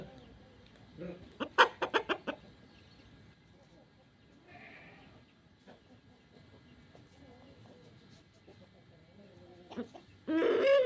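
Bird calls come in a short burst of clucks, then a long quiet stretch with faint sounds and a loud noisy burst at the end.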